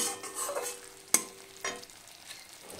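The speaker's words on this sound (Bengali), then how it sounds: "তো মশলাটা আমি কিছুক্ষণ কষিয়ে নেব, আদা বাটাটার কাঁচা গন্ধটা যতক্ষণ না চলে যায় ততক্ষণ একটু কষিয়ে নেব" Spice paste with ground ginger stir-fried in a pan for a chalkumra (ash gourd) dish, a soft sizzle under a few sharp spatula scrapes and clicks, close and fairly quiet with no talking.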